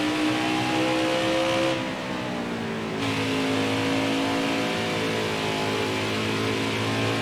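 NASCAR truck engines racing at Bristol in NASCAR Heat 4: a sustained, loud revving drone whose pitch glides up and down steadily, with no talk over it.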